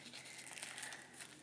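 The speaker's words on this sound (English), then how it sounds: "So now I'm going to rip this open." A Zelf blind bag package is ripped open after a small scissor cut, a brief, soft tearing and crinkling of plastic, close and quiet, with no voices.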